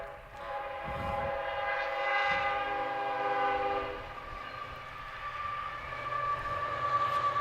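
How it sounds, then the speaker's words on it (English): A train passes near a baseball field, its horn sounding in long sustained blasts over a steady rumbling roll that swells and stays loud throughout. "Do have a train coming"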